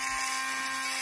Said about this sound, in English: Do not keep the Dremel in the area for longer than a second or two